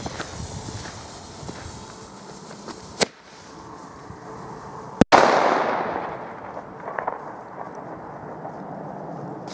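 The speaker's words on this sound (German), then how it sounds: "So, jetzt Flashbang." A flashbang firecracker bursts in snowy woods on New Year's Day: a sharp crack comes first, then a louder bang whose roar trails off slowly into the quiet forest.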